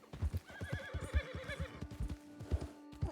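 A horse in Red Dead Redemption 2 whinnies with a long, wavering neigh while its hooves clop in an uneven rhythm close by, with no talking over it.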